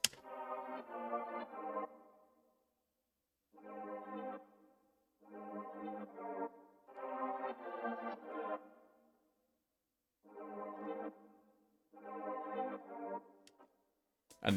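A synth pad from the Bliss one-shot kit with its attack turned up, playing chords in seven soft-edged swelling blocks separated by silences, each fading in gently and sustaining before stopping.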